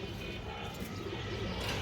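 Pigeons coo at a bird sale where a black male Makra pigeon is on show, soft repeated cooing close by over a busy background hum.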